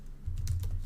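Typing on a computer keyboard: a quick, close pair of soft key clacks over a low hum, lasting under a second.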